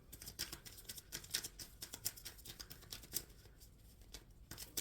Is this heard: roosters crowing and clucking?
no